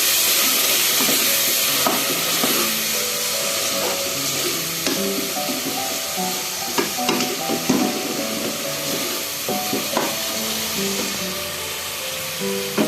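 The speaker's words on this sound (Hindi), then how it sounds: "अब हम इसमें ऐड करेंगे टमाटर की हमने प्यूरी बना के ऐड की है। अब हम इसको अच्छे से भूनेंगे।" Tomato puree with ginger, garlic and green chillies is stir-fried in a pan for kadhi pakora, making a loud, constant hissing sizzle with scattered stirring clicks and scrapes over faint background music, close and without speech.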